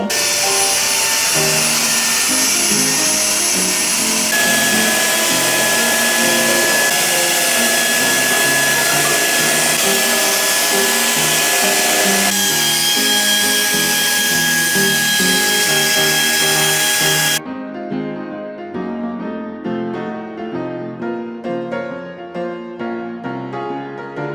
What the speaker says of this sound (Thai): รีวิวเครื่องดูดฝุ่นถูพื้นของ Autobot